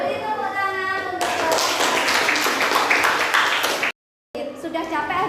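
Indonesian primary school classroom with a group of children clapping together for a classmate's poster: dense, continuous hand claps that fill several seconds, then a brief silence and a few more claps as a voice chimes in.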